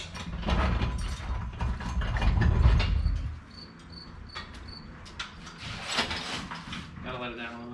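A ratchet wrench turns a bolt on a lifted Jeep, giving rapid, even clicking in the second half. It follows a stretch of low rumble and talk, and the clicks are close and moderately loud.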